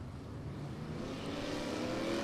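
At Humberstone Speedway, a race car engine's revs slowly creep upward, a faint, steady, distant drone that builds gradually.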